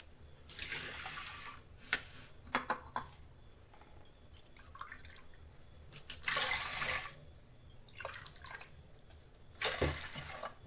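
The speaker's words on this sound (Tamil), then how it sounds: "இப்போ இது தண்ணி சேர்த்திக்கலாம்." Water poured into a pressure cooker holding washed toor dal for sambar, heard as a few splashy, gurgling pours separated by quiet gaps, close and moderately loud.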